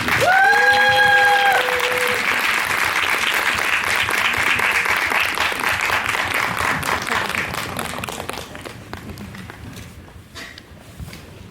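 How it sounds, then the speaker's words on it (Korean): Applause from a film festival audience welcoming a director and two actors to the stage for a post-screening talk, steady dense clapping under a host's voice that thins out toward the end. "큰 박수로 환영 부탁드립니다."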